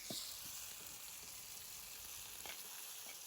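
Green chillies fry in hot oil in a pan while being stirred, giving a faint, steady sizzle with soft scraping touches of the spoon, and no one talking.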